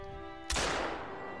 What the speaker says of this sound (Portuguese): E vão atirar na lebrezinha ali, ó.